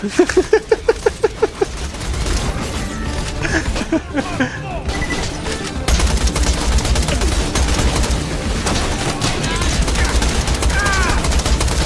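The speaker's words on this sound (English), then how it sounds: "He's shooting like an idiot." Rapid gunfire from a first-person shooter game, Borderlands: The Pre-Sequel, with a burst of evenly spaced shots at the start, then dense continuous shooting and crashes under game chatter and voices throughout.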